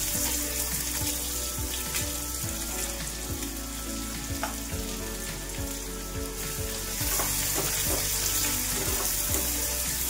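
Onion added to garlic frying in oil on a low flame in a pan, with soft sizzling and crackle throughout and rhythmic stirring taps, close and steady without talk.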